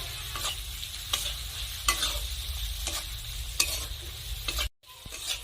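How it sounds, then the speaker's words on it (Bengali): Spices with salt, turmeric and Kashmiri red chilli powder being stirred and fried in a pan, with steady scraping strokes every second or so over a continuous low sizzle, briefly cut off near the end. "এখন সব কিছু আমি নেড়ে চেড়ে কষে নেব।"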